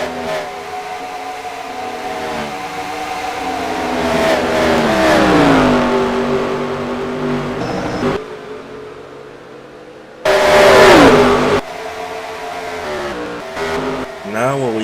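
NASCAR race car engines in NASCAR Racing 2003 at Pocono roar and shift pitch as cars pass, with one loud close pass-by standing out, all beneath steady race commentary.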